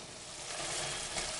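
BBQ shrimp in a peppery sauce sizzle steadily in a pan, a dense broadband frying hiss that swells slightly midway and holds for the full moment, close and fairly loud with no talking.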